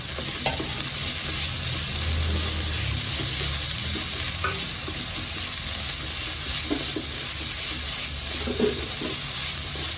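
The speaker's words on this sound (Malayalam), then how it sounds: "കുറച്ച് ക്യാരറ്റ് കൂടെ ഇട്ട് കൊടുക്കാം എല്ലാം ചെറുതായിട്ട് അരിഞ്ഞതാണ്" Finely chopped carrot, potato and onion stir-fry in a pan for a vegetable samosa filling, giving a steady close sizzle with scraping spatula strokes and light knocks against the pan throughout.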